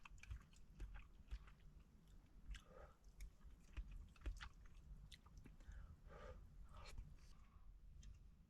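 Someone chews dim sum inside a parked car, the soft, moist bites and mastication repeating close up and faint, with no talking.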